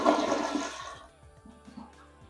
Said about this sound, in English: drain all the extra water out of your tank